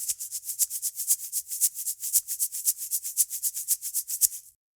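A homemade shaker filled with fine beach sand, shaken in a quick, even rhythm of about thirty crisp, airy swishes over roughly four seconds, close and alone, ending in silence.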